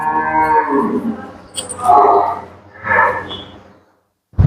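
A Murrah buffalo on a farm in Solapur moos loudly and close by in several deep, drawn-out calls separated by short pauses.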